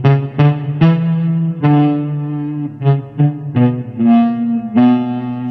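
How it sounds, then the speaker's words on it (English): An EBow on an electric guitar produces sustained, swelling notes in reverse bowing strokes, each note starting abruptly and gliding off, played as a loud sequence of about a dozen distinct pitched tones with no talk. "Slap the EBow into position over the hot spot and quickly glide it away from the pickup in a reverse bowing stroke."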